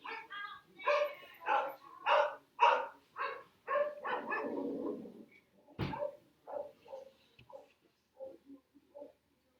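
A dog barks repeatedly in a steady run of short, evenly spaced barks, moderately loud from the background, with no talk over it.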